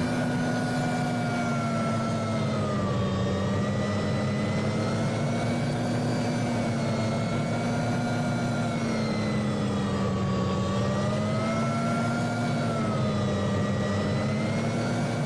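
A steady, loud aircraft engine drones without break in a VRChat flight world, its propeller hum holding a strong tone that swells and dips slightly in pitch as the craft maneuvers.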